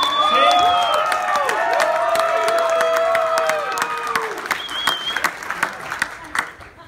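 An audience at a comedy show applauds and cheers a volunteer on stage; a dense wash of clapping starts loud, then thins into scattered claps, while a voice speaks over the crowd.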